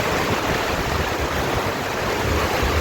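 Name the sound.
strong wind blowing during a rainstorm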